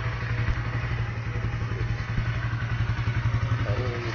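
Kawasaki KSR 110 mini trail motorcycle with a 110 cc engine running at idle, a close, steady, rapid thumping putter with mechanical clatter, alone and fairly loud throughout.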